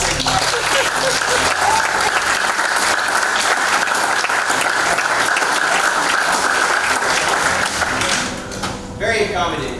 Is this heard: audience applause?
yes